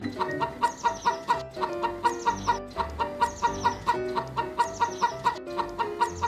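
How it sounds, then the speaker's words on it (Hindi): A hen clucks loudly and repeatedly in quick, insistent bursts, close by, with no talking. "मुर्गी जोर से आवाज करती हुई उसके पीछे पड़ी"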